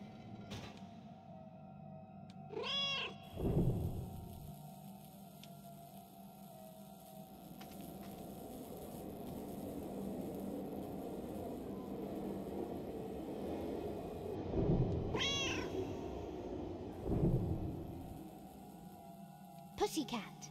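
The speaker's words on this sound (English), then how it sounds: "Make the cat meow while controlling either him or Kit." A cat meows in the video game Another Sight, with two short, rising-and-falling meows about twelve seconds apart over a steady low game ambience and hum.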